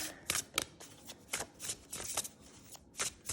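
Oracle cards are shuffled by hand in a rapid run of crisp riffling bursts, close and fairly quiet, with short pauses between each flurry of snapping card edges.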